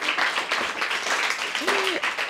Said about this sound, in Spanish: Vale, bueno, un aplauso.